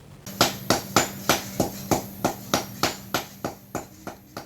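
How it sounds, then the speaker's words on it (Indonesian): A blacksmith's hammer strikes iron in a simple village forge workshop, with about fifteen sharp, ringing blows at a steady, even rhythm, each one decaying briefly before the next. "Suara pukulan palu menghantam besi masih menggaung dari bengkel sederhana"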